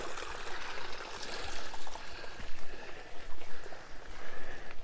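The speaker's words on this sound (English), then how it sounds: "Little waterfall." A small waterfall outdoors gives a steady broadband rush of flowing water with splashy texture, fairly close, running continuously on its own without talk.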